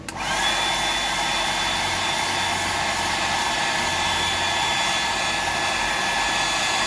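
A hair dryer drying paint switches on and blows a steady, loud, close whooshing hum with a faint whine, continuous and unchanging to the end.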